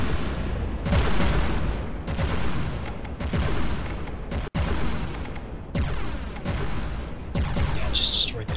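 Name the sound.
500mm machine gun firing, video game From The Depths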